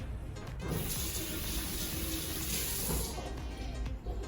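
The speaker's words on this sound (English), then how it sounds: "we're going to wet our hands, so I'll do that" Tap water runs steadily into a kitchen sink as hands are wetted before stretching and folding sourdough bread dough, a continuous close hiss lasting a few seconds before cutting off.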